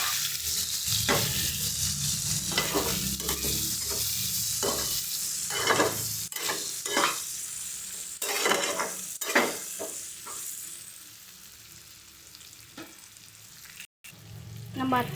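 Amla pickle with turmeric powder stirred in a frying pan, a steady oily sizzle with scraping strokes of the spoon, loud and close with no talk.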